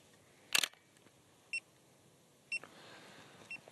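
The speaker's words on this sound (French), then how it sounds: "Et là on a l'obturateur qui s'est déclenché." A medium format camera's shutter fires with one loud, crisp mechanical clack on a night long-exposure outing, followed by three faint, evenly spaced electronic beeps about a second apart in a quiet setting.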